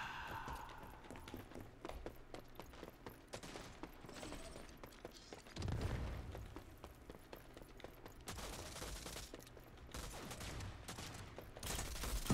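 Gunfire rattles in the shooter game Rogue Company as several players fire, with rapid bursts and scattered volleys, fairly faint and steady across the stretch with louder clusters toward the end.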